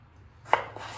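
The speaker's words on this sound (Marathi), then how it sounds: "आता आपण टोमॅटो कट करतोय" A knife slices through a tomato on a cutting board, one sharp close cut followed by a softer second stroke against a quiet background hum.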